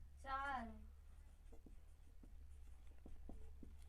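Pen writing out a math solution on paper, soft faint scratching strokes in short bursts, after a brief voiced sound from a man at the start.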